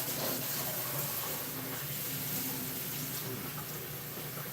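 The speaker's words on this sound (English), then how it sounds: "Wash inside the jug with scalding hot water" Hot water runs steadily from a kitchen tap while a Keurig coffee maker's jug is washed, a continuous even hiss and splash with no break, fairly close.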